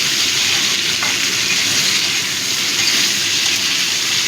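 Onions fry in a pan for an aamudi fish curry, a loud, dense, continuous sizzle that stays steady throughout with no talking.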